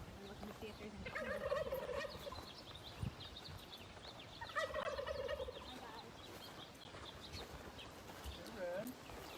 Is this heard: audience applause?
no